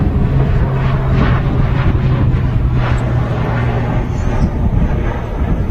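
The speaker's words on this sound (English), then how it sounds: "we got this Aer Lingus ATR departing" An Aer Lingus ATR turboprop departs the airport with a loud, sustained engine drone and steady propeller hum, heard from nearby under heavy wind rumble.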